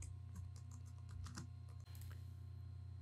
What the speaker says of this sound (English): So double click and type floor plan.